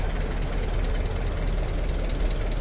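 The petrol engine of a vintage Renault TN4H Paris bus idles steadily, a continuous low rumble with a faint knocking texture and no speech on top of it.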